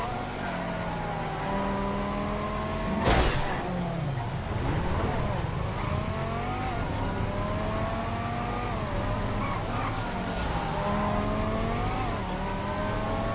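A Yuga V12 sports car in GTA V revs its engine, the tone rising and falling in repeated surges with a sharp transient near the start, loud and steady throughout.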